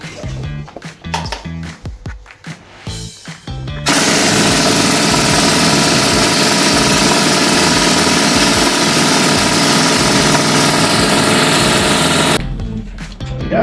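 An antique pneumatic rock drill in a gold mine tunnel starts up and hammers continuously at a rapid, harsh rate for several seconds, very loud and close, then abruptly stops.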